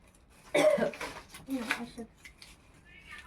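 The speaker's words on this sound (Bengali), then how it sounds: "কাশি হচ্ছে" A few short, harsh coughs close by from a person with an injured throat, followed by quieter throat noises and faint rustling.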